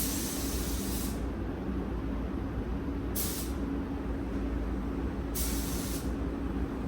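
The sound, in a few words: HVLP spray gun spraying metallic silver paint on motorhome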